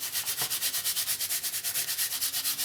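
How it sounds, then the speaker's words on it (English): Surgical scrub brush rubbing grime off a 12-string guitar during restoration, a fast rhythmic back-and-forth scrubbing with even strokes, close and fairly quiet, no talking. "These are just little from scrub brushes, surgery scrub brushes."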